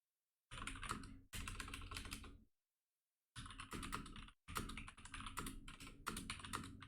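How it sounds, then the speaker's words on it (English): Rapid typing on a computer keyboard comes in close, dense bursts of clattering keystrokes, broken by short pauses of silence between runs. "just typing to chat."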